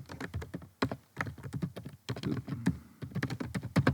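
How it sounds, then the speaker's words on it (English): Rapid typing on a computer keyboard while filling in web form fields, with dense clusters of close, crisp key clicks in bursts separated by brief pauses, alone without talk. "just simply type in the information into the first field and use my tab key to go through the rest"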